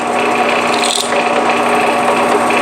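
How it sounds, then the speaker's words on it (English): A drill press fitted with a 3/32 bit bores small side dot holes in a rosewood guitar side through brass bushing guides, a steady close whirring grind that runs continuously and loudly. "I got my 3/32 bit in my drill press, and I'm just going to use these little brass bushings as the guides, and we're going to drill some side dot holes"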